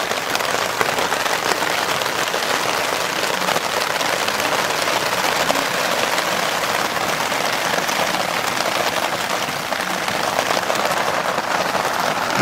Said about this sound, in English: It's raining like cats and dogs right now.